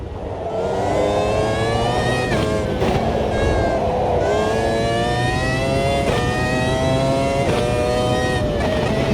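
A high-pitched Formula 1 car engine in the racing simulator Automobilista 2 at Spa revs repeatedly, climbing and dropping with each gear change, loud and sustained throughout.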